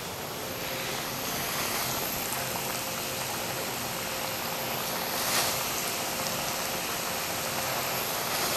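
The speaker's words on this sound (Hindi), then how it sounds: "ऑयल गर्म हो गया है, इसमें फ्रेंच फ्राइज डाल दें।" French fries sizzle in hot oil as they fry for a fajita-flavoured recipe. A dense, steady, crackling hiss continues without a break, close and even throughout.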